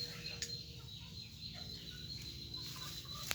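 Three-month-old young chickens spar with each other, giving soft scattered fowl sounds and faint scuffling over a constant low background hum, with a couple of brief sharper noises, all quiet and at some distance.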